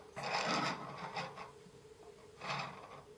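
Dial of a 3D printed combination lock safe turned back to zero, giving soft plastic rasping and rubbing clicks in a few close bursts separated by short pauses.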